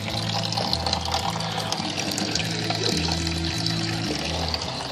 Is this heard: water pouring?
yes